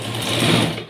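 Sewing machine running steadily through a one-second burst while stitching a straight-cut blouse, a close, continuous mechanical whir with no pauses and no voices.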